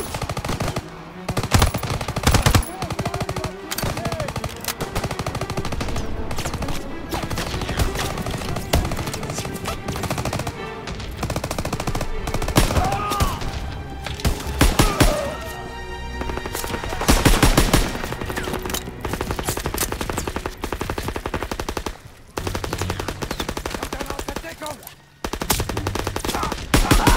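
Sustained machine-gun fire in a Call of Duty: WWII battle, loud and dense bursts rolling for nearly half a minute with brief gaps, layered with other gunfire and impacts.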